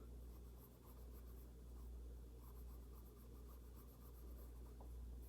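A colored pencil moves steadily across paper, making a soft, continuous scratchy rubbing. It is quiet and close, with no talking.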